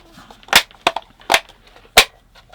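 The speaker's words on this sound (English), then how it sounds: "and lots of loud snapping sound there" Plastic lamp holder parts on a GU10 lamp test box snap into place with four sharp, loud clicks spaced unevenly over a couple of seconds, with quiet handling noise between them.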